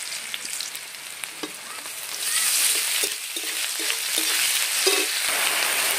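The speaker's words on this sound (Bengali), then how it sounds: "পেঁয়াজটা হালকা করে ভাজা হয়ে গেছে, এবারে এর মধ্যে দেবো আমি আদা রসুন বাটা।" Onions fry in a pan as ginger garlic paste goes in, a loud, continuous sizzle that jumps up partway through, with a few light clinks of a spoon stirring.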